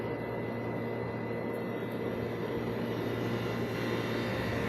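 An airplane passes over Riyadh at night as a steady, distant engine drone with a low hum, constant and unbroken, with no talk.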